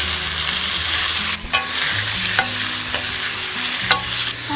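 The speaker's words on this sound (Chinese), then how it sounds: "我想把蘑菇炒到缩水" Mushrooms with wood ear and bamboo shoots stir-frying in a hot pan, with a steady loud sizzle throughout and occasional sharp scrapes and clacks from stirring.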